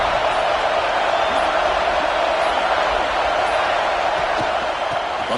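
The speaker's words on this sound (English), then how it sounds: "here comes the noise. This crowd's trying to inspire this defense to make a big red zone stop." Stadium crowd in the video game EA College Football 26, TCU at Tennessee, roaring to rally the defense for a red zone stop: a loud, steady, unbroken wall of crowd noise with no talking.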